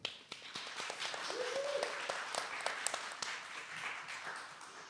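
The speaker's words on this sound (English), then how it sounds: "Please give yourselves a round of applause." Audience applause at a writers' panel welcome, a steady wash of clapping from a gathered crowd lasting several seconds at moderate volume, with a brief faint voice-like tone partway through.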